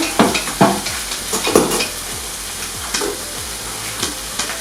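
Seasoned rice with pepper and salt frying in a pan, stirred with repeated scraping strokes over a steady close sizzle.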